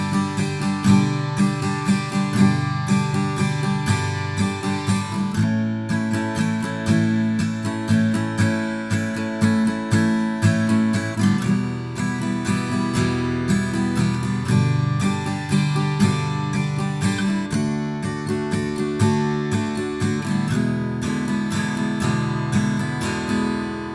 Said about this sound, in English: And that's it for the chorus, really nice and simple, which sounds like this.